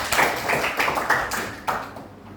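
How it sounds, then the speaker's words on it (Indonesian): A school class claps hands together in a quick series of loud, rhythmic group bursts that fade toward the end, with no talking over them. "tepuk tangan sekali lagi."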